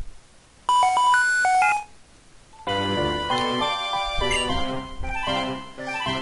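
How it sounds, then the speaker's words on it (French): Xtransceiver ringing in Pokémon White, a bright electronic ringtone of repeated chiming notes lasting about a second, followed by a fuller musical jingle. "Le Vokiet sonne."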